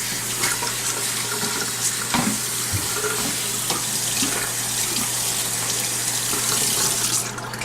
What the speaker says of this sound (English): And we're gonna wash our chopping board.